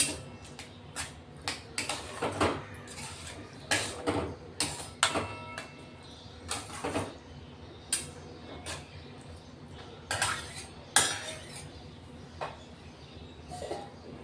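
Curd being stirred into spice masala in a pan for a moong usal, heard as a series of soft, irregular scraping and clinking strokes at close range with no talk.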